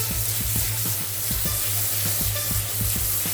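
Paneer frying in a pan for a veg handi: a steady, close sizzle throughout, with regular soft scraping strokes of stirring about three times a second, no voices.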